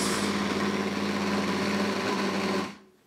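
A blender grinding spice paste with cooking oil for lontong sayur, running as a loud steady motor whine with a close, even roar before spinning down abruptly near the end.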